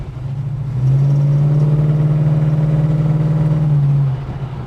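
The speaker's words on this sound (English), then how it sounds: "It sounds like something's going to break." A 1960s-70s Holden HK car engine with a fault drones with a strained, steady mechanical hum that swells loud for a few seconds, then drops back to a rough idle.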